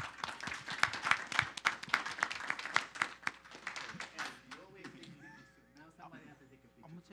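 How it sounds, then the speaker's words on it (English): Scattered claps from a small group at a city council meeting, sharp and close, with sparse clapping fading over the first few seconds and then giving way to talk. "Applause, please"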